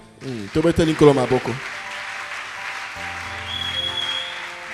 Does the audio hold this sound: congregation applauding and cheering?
yes